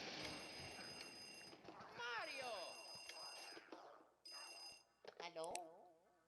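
A telephone rings in the video game Luigi's Mansion, its ringing tones repeating in bursts over game music and effects, with someone talking over much of it.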